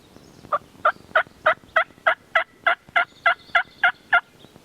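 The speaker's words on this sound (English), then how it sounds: "he keeps gobbling" A wild spring turkey gobbles in a rapid run of about a dozen loud, evenly spaced calls, fairly close and clear against a quiet outdoor background with no talk.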